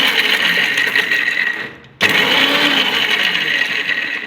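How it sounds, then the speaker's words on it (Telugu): An electric mixer grinder coarsely grinds peanuts, dried red chillies, garlic and salt, giving a loud steady whirring roar that stops for a moment and starts again, with no talking. "ఇది మిక్సీకి పల్లీలు, ఉత్తిమిరపకాయలు, వెల్లుల్లి, సాల్ట్ కొద్దిగా మిక్సీకి వేసుకున్నామండి."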